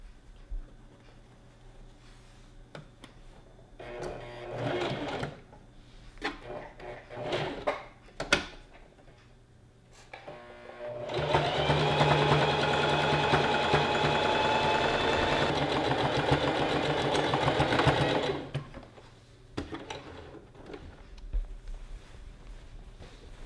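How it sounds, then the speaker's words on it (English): A sewing machine runs steadily for about seven seconds, stitching down gathers on a maxi dress, with fabric handling, clicks and small taps before and after. "Now we can just even out our gathers and sew it down."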